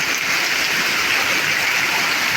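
Heavy monsoon downpour during a cloudburst, a dense, steady roar of rain that stays loud and close with no break for the whole stretch.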